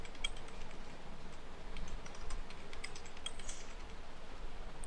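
Someone types a mobile number on a computer keyboard while filling in an online university distance-learning registration form. Steady, light key clicks run throughout, set against a dull room hum.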